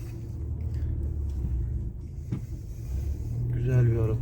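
A 2016 Audi A6 Quattro with a 2.0 diesel engine and semi-automatic gearbox drives along, its steady low cabin rumble continuous throughout and swelling slightly near the end.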